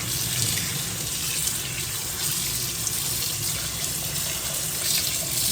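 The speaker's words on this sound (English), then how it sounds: "I think you're supposed to rinse it in cold water, so cold water going." Cold water running steadily from a tap to rinse freshly dyed fabric, a constant close splashing hiss with no talk over it.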